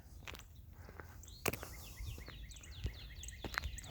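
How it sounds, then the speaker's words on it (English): Small birds sing outdoors with repeated faint chirps and short warbling phrases at a distance, mixed with footsteps, scattered clicks and light rustling close by, no talk. "I love hearing these birds."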